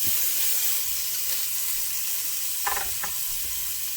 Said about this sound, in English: We're going to go ahead and sear that meat.